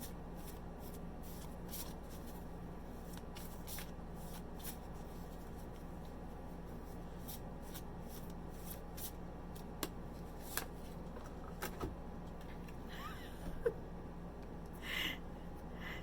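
An Angel Inspiration oracle card deck being shuffled by hand, soft repeated riffling flicks at a quiet, close level, with a few louder taps and rustles near the end and no talking.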